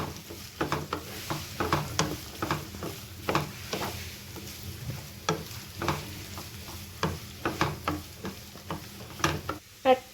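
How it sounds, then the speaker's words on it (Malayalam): Chopped onion stirred and sautéed in a pan for a Kerala-style chicken curry, with a soft constant sizzle under repeated close scrapes and clacks of a spoon at an uneven rhythm. "നമുക്ക് ഈ ഒരു സവാള നന്നായിട്ടൊന്ന് ഇളക്കി കൊടുക്കാം"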